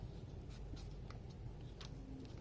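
Pen or marker writing on a classroom chart, producing faint scratchy strokes in short bursts over a steady low background hum.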